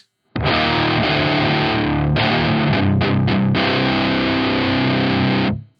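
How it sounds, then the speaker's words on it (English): An electric guitar plays through a Harley Benton Mighty 15TH amp head with distortion straight from the amp, loud saturated chords ringing out with a short break midway, then sustaining before cutting off. "That's not a bad distortion, just straight from the amp head there."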